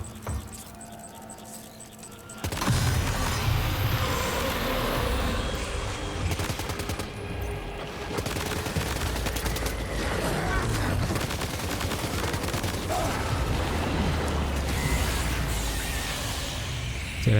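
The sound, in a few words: gunfire in the video game Death Stranding 2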